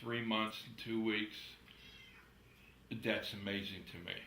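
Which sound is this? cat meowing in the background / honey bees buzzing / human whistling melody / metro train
cat meowing in the background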